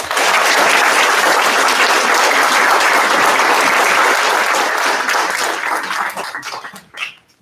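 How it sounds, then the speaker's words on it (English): A loud, dense round of applause from an awards-night audience, honoring the judges at the 30 Under 30 ceremony, holds steady and then tapers off into scattered claps at the end. "Please give a round of applause to our judges."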